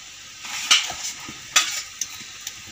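Sardine curry with chilli, turmeric and coriander powders and tamarind water cooking in a pan, heard as a soft steady sizzle with a few louder stirring scrapes and clinks against the pan, close and without talk.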